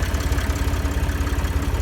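A tractor engine idles steadily at close range, a loud, even low rumble with a regular pulsing throb and no voices over it.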